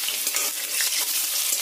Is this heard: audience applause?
no